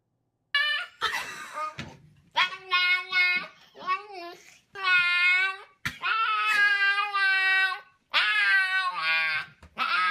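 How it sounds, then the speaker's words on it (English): A puppy trying to bark makes a run of high, squeaky, wavering yelps and whines in several bursts, close and fairly loud, with short gaps between them. "This dog, this puppy, forgot how to bark."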